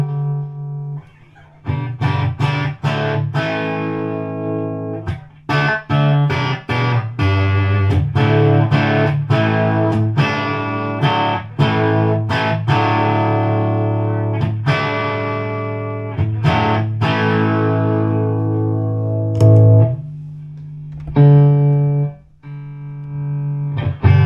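Electric guitar chords and picked notes ring out through a 1980s KMD GV60 hybrid tube amp with 5881 tubes, warm and slightly overdriven, strummed in bursts with pauses and sustained tails.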